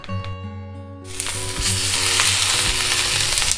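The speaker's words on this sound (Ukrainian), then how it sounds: "Поки смажиться курочка" Chicken sizzling loudly in its own rendered fat in a pan as it starts frying, a steady crackling hiss that swells after a quiet start with a low hum underneath.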